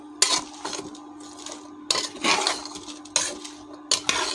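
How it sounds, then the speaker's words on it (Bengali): Jackfruit curry stirred in a pot, with intermittent metallic scrapes and clinks of a utensil against the pot coming in bursts between quiet gaps, close and moderately loud. "এখন আমি ভালো করে নেড়ে দেবো"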